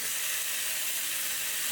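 Chicken and turkey thighs sizzle steadily in a hot pan, a dense, even frying hiss that holds at a constant close level throughout with no talking.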